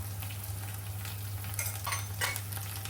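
Coriander, chili powder and turmeric fry in a pan, a close crackling sizzle with bursts of stirring scrapes over a steady low hum, no one speaking.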